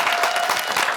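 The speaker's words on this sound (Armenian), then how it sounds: "Ծափարում են Գարիկ Բաբայան" An audience applauds a guest at a comedy show, giving a dense, loud, continuous burst of clapping that fills the whole moment.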